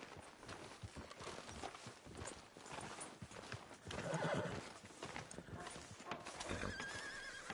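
A horse in a video game clops along on hooves and gives a whinny while being brought to a hitching post, fairly quiet, with game ambience around it.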